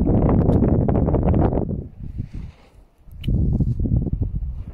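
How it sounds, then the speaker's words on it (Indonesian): Strong gusty wind buffets the microphone near the summit of the Ijen crater volcano, a loud low roar that drops away briefly in the middle before surging back hard. "Anginnya kenceng."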